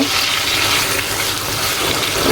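Pre-fried eggs tipped into a pan of cooked-down spice masala fry with a loud, close, continuous sizzle and crackle, the bright hiss holding steady throughout with no talking.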